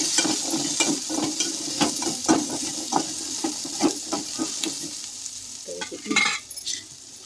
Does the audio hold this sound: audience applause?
no